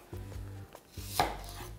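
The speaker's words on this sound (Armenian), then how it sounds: "կտրատում ենք" Onions being chopped with a knife on a board for ground beef and kololak. Quick, crisp knife strikes come in short rhythmic bursts with a pause between them, close and clear, with no talking.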